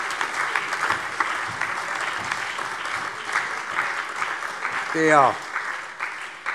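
Steady applause from the audience at a parliamentary plenary session, with a speaking voice briefly over it.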